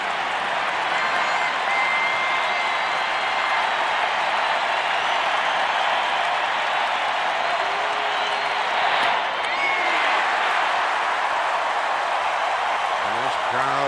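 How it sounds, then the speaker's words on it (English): A baseball stadium crowd at the 1991 World Series Game 7 in Minnesota, a constant dense roar of hooting and cheering that fills the whole stretch with slight surges, no clear speech above it. "Crowd hooting and hollering on each pitch."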